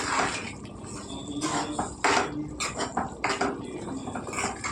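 A spoon scrapes and clatters in a pot of ridge gourd and raw prawn curry, a busy run of close metallic stirring and knocking with louder bursts, and a faint voice underneath.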